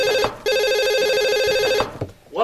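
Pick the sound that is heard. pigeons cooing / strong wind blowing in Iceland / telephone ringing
telephone ringing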